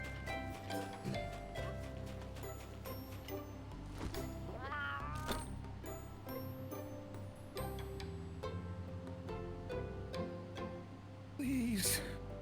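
A cat meows in a video game, the calls rising over dense, layered game music and sound effects, with faint talk nearby.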